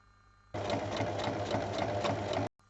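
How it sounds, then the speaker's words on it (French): Sewing machine stitching a long seam on fabric for a zip pouch bag, a close, even mechanical whir lasting about two seconds before stopping abruptly. "On épingle et on pique sur toute la longueur."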